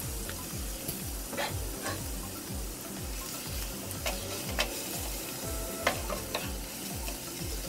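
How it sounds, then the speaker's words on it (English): Garlic and ginger sautéing in oil keep up a constant crackling sizzle while a spatula scrapes the pan in a regular rhythm, with occasional sharp clicks against the metal and no speech. "Then you need to saute the garlic and ginger."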